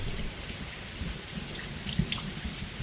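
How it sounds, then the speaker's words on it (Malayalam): Steady rain falls outdoors, a dense continuous hiss of drops on surfaces with a faint low rumble beneath, even and unbroken throughout with no one talking. "എന്ത് മഴയാണത്?"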